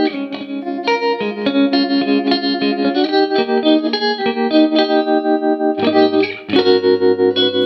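Electric guitar chords pulsing through a modified Boss TR-2 tremolo pedal, the volume rhythmically wavering throughout, with a lower chord change near the end; no voices.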